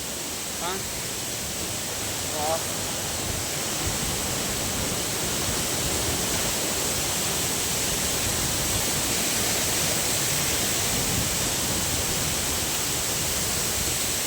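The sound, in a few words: waterfall, fast-flowing water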